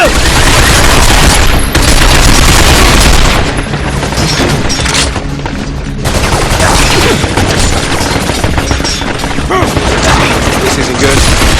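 Heavy gunfire in the Binary Domain video game bursts in loud rapid volleys with booming impacts, nearly continuous over several seconds with a brief lull, and voices are heard now and then.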